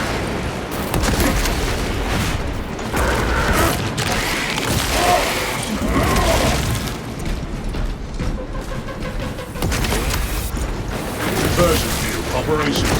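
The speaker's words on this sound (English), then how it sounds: "Throwing fragmentation grenade." Fragmentation grenade blast in the Warhammer 40k game Space Marine 2, a dense wash of booms and gunfire rumbling continuously amid mechanical battle noise, with voices speaking over it.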